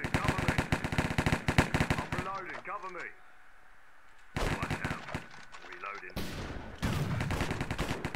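Rapid automatic gunfire from a Minecraft Hypixel Cops and Crims match comes in dense, loud bursts of shots separated by quieter gaps, with a person speaking between the volleys.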